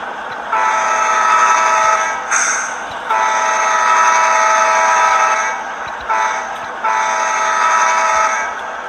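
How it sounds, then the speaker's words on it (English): A model locomotive's deep multi-tone custom horn, sampled from a CSX AC6000, blows in three long loud blasts separated by short gaps, with rumbling railway background noise. "It's got a custom horn as well, taken off of a prototype CSX AC 6000."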